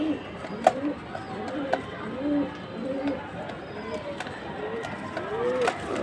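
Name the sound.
naptha pigeon cooing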